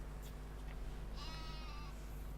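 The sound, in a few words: sheep bleating in Farming Simulator 17 video game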